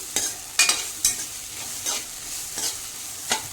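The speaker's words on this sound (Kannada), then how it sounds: "ಒಂದು 5 ನಿಮಿಷ ಹಿಂಗೆ ಹುರಿಯಂಬ್ರಿ." Vegetables frying in oil for palya and being stirred in the pan, a steady sizzle broken by several sharp scraping stir strokes at close range, with no one talking.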